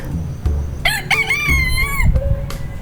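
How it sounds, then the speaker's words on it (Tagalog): A Roscom rooster crows loudly and close, one full cock-a-doodle-doo rising and then falling, with soft clucks and farmyard noise around it. "rooster."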